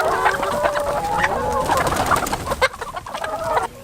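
Free-range chickens cluck and coo on a chicken farm run as a training project, many birds calling over one another in a busy, fairly close chorus that carries on throughout.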